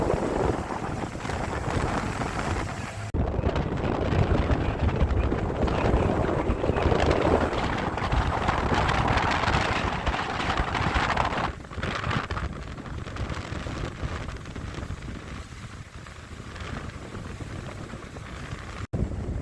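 A fishing boat's engine on open water roars steadily as the throttle opens, a loud broadband rumble with strong wind buffeting the microphone, the noise easing and thinning slightly in the later seconds.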